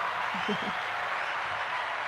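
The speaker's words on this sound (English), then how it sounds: "How about a big hand for Carlee?" Studio audience applause for a podcast guest, a continuous, dense wash of many hands clapping at even volume, with a brief voice underneath.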